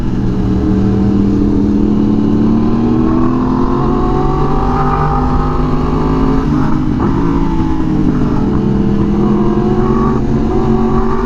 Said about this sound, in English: 24/7 LA traffic.